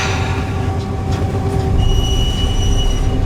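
A train slows after hitting an animal, the carcass dragging underneath in Australia: a steady loud rumble with metallic wheel squeal and thin high tones rising over the roar.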